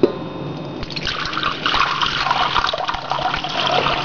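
Water pours steadily into a mixer bowl for bagel dough, a continuous splashing rush that grows slightly fuller partway through, with no one speaking.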